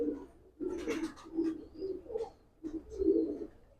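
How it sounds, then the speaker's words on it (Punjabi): Peacock-tailed pigeons coo close by in repeated soft, throaty bursts, several rolling calls in a few seconds. "ਆ ਲਿਆਂਦੇ ਹੋਰ ਕਬੂਤਰ ਇਹ ਵੀ ਮੋਰ ਵਾਲੇ ਆ"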